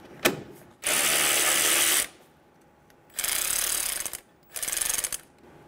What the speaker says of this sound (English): Using a 10 millimeter socket, remove the bolt for the coolant reservoir.